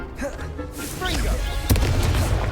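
Confringo explosion spell cast in the Hogwarts Legacy video game, a sharp burst that lands as a booming impact, preceded by chattering voices and spell effects.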